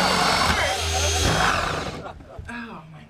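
A power drill runs steadily and loud for about two seconds, then winds down and stops, with a person talking briefly afterward.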